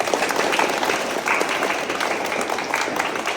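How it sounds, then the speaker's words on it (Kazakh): Applause breaks out for a child boxing champion at a Kazakh MMA and boxing gym awards moment, a dense steady clapping that fills the room throughout and stays close and loud. "Қол шапалақтап қойдыңдар балаға."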